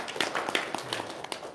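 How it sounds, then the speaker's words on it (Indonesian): An audience claps at a gathering, giving a quiet, brief burst of rhythmic claps lasting under two seconds. "Tepuk tangan dulu dong"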